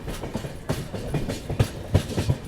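The Marudhar Express pulls out of Gotan station in Rajasthan, its railcars thumping and clattering over the rail joints in an uneven rhythm, heard from on board at moderate volume.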